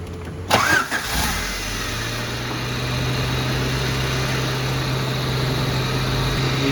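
A 1992-93 Honda Civic fitted with a 1994-95 A/C compressor cranks briefly and catches, then settles into a steady, close idle hum with the air conditioning running.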